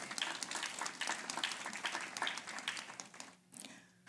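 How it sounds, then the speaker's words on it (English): Teachers and students applaud at a Ministry of Education celebration of Career and Technical Education month, a fairly faint but steady round of clapping from a group that thins out near the end. "Let's give yourselves a round of applause."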